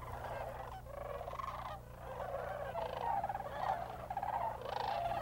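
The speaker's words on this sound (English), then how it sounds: "view wave after wave of cranes and geese flying in as the sun sets" Cranes and geese call overhead while flying in at sunset at Bosque del Apache wildlife refuge, New Mexico, in loose, overlapping honks and trumpeting bursts, moderately distant, over a low steady hum.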